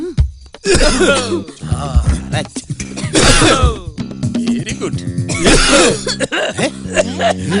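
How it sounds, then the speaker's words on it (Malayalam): Deliberate, staged coughing in a Malayalam action film scene, with several harsh throat-clearing bursts scattered among dialogue, close and fairly loud. "ചുമക്കാൻ മറക്കരുത്, ടൈമിംഗ് ആയിരിക്കണം."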